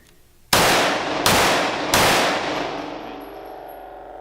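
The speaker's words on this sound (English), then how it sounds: "Let's get a couple shots here." Sig P320 X5 pistol fired three times in steady succession, loud sharp reports each with a long ringing decay, outdoors with no voices.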